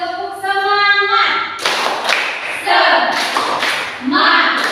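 A classroom of children performs the 'tepuk semangat' clapping chant, a few loud rhythmic claps and thumps mixed with children shouting the chant together, following a teacher's sung lead.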